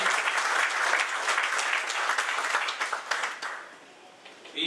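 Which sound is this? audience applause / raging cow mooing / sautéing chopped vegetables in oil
audience applause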